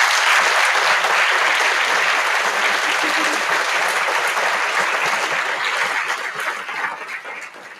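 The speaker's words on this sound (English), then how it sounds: "Would you please give the faculty and staff here at Eden a round of applause?" A large audience at a school gathering gives faculty and staff a round of applause: loud, dense, continuous clapping that fills the whole stretch and fades slightly near the end.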